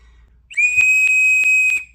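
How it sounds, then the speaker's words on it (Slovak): A handmade wooden whistle sounds one steady, clear note for just over a second, closely and loudly, with a short pitch scoop at the start and no other sounds around it. "uvidíme okamih pravdy, či píšťalka bude fungovať"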